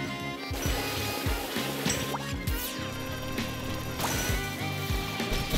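Character running across water in the video game Penny's Big Breakaway, with repeated light splashy patters and skipping sounds over game music and effects.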